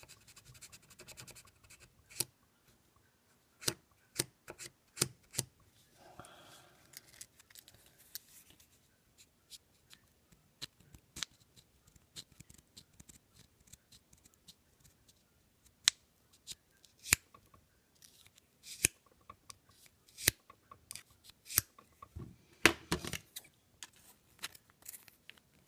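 Glued material is cut out of a sword handle being prepared for tsukamaki wrapping: quiet, irregular snips and scratchy scraping close up, with sharp clicks scattered throughout.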